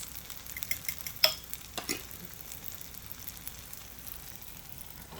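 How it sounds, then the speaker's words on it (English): Eggs sizzling in a frying pan as they are scrambled, a soft steady sizzle with a couple of brief scraping stirs near the start, fairly quiet and close. "And I just scramble the eggs a little bit more and add those."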